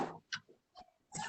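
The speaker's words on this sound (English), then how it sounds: "Sorry, my dogs are going crazy." Dogs barking and whimpering in short separate bursts, fairly close and moderately loud, with quiet gaps between them.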